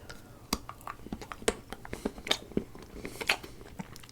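Someone eating homemade chocolate close up, with a series of crisp bites and crunchy chewing clicks at an irregular rhythm, with no talk.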